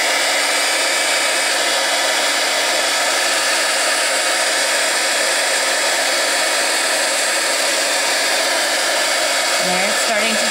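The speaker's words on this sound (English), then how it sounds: "So I'm going to get my heat gun here. It's going to be a little noisy," A heat gun blows continuously on embossing powder on a card, a loud, steady high-pitched whoosh lasting the whole time and cutting off right at the end.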